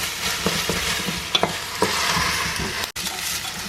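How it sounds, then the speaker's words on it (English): Tomato puree frying and being stirred in a pan, a steady sizzle broken by scrapes and clicks of the utensil against the pan, close and alone without any voices. "Frying that up quickly."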